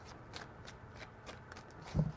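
Tarot cards being shuffled, a quiet close riffle of soft papery flutters in a loose rhythm, ending in a slightly louder tap.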